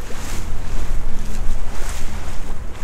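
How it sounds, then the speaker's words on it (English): A small dinghy pounding across rough, choppy water in the Exumas, with constant splashing, rushing water and heavy wind buffeting close to the microphone, loud and continuous, no voices. "Looks like a wet ride over. A little splashy. Yeah, it's a little rough here, guys."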